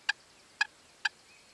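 Wild turkey toms gobble in the Quebec woods during a spring hunt, three short, sharp, mid-distance gobbles spaced about half a second apart against a quiet background.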